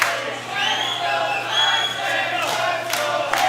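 Wrestling crowd cheering on Tyson Dux during his Smash Wrestling match with Joe Hendry, a steady roar of many voices with shouts rising above it and a commentator talking over the noise.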